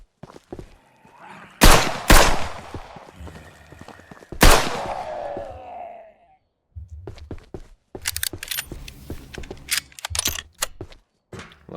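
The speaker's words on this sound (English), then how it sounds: "Looks like 3 shots from the revolver works." A revolver fires in a survival video game set on an island near a sawmill, loud sharp shots with ringing decay, two close together and then a third, followed by shuffling steps and scattered game noises.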